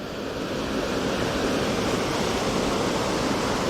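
A waterfall pours steadily into a small pool, making a loud, continuous broadband rush of water with no pauses and no voices.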